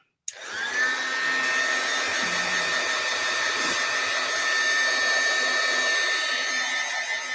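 A heat gun melting embossing powder switches on abruptly and then blows with a loud, steady whine and rush of air that continues to the end, with no talking.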